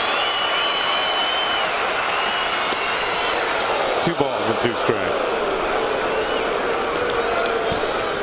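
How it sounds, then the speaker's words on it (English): A baseball crowd at Yankee Stadium roars steadily as the Tigers face their last strike, a dense continuous swell of cheering with scattered claps and shouts beneath a commentator's voice. "you can hear the crowd getting all fired up"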